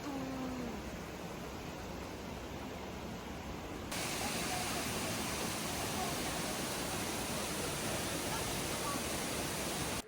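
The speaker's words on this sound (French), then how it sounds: "Trop mignon, des petites cascades partout." Small waterfalls in Morocco pour in a constant broadband rush of falling water, steady and fairly loud without pauses.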